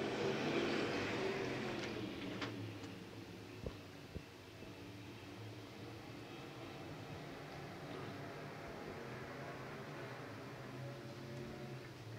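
Open wheel modified race cars, Crate Racin' USA cars at Talladega Short Track, roar around the short oval in a steady, loud engine drone that fades slightly after the opening seconds, with no talk over it.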